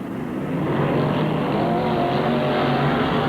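Dirt modified race cars roar around Penn Can Speedway during qualifying, a loud, sustained engine drone that swells in the first half second and holds steady, close and with no talking.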